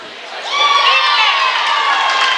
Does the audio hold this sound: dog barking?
no